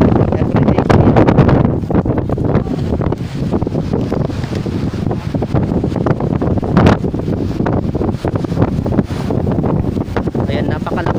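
Strong wind buffets the microphone with loud, continuous roaring gusts, while a person speaks faintly underneath.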